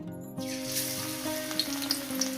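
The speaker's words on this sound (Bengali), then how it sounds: "তেলটা আমার গরম হয়ে গেছে এবার এক এক করে আমি এটা দিয়ে দেব" Onion pakoras drop one by one into hot oil and fry with a steady, close sizzle that swells after the first batter hits, with small pops and bubbling over the crackle.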